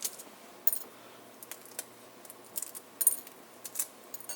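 Hard-boiled egg shells being cracked for an egg sandwich, giving a series of small, sharp, brittle taps and crackles spread irregularly, close and fairly quiet, with no talking.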